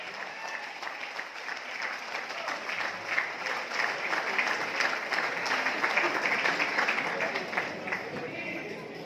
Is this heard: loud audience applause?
yes